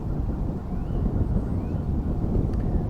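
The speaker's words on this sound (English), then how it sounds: "It was a little windy this day." Wind buffets the microphone outdoors by the water on a disc golf course, a steady low rumbling roar that persists throughout with no talk.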